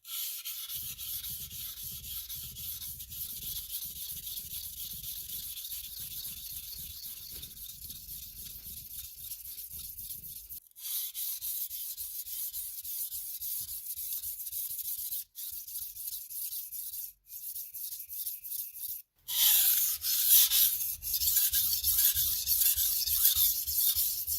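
A Japanese gyuto blade is sharpened on a 500 grit whetstone, a close, continuous gritty rubbing and scraping in long strokes, broken by a few brief pauses before a brighter, harsher final pass.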